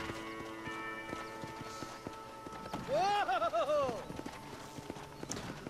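Horse hooves clip-clop in Red Dead Redemption, a rhythmic run of hoof strikes with a brief whinny-like cry midway, heard at moderate volume over faint ambient game sound.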